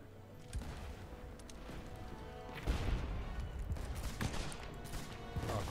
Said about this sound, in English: Fire the right cannons.